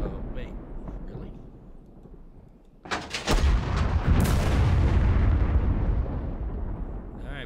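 Tank cannon fire striking an enemy tank in a World War II video game set on the Kiev front: a quiet stretch, then a sudden loud blast near the three-second mark followed by sustained rumbling impacts and crackling.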